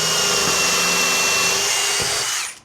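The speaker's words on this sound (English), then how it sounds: "now I'm just going to cut some plugs for them holes" A power drill whines steadily as it drives a plug cutter into wood to make wooden plugs, loud and continuous before spinning down at the end.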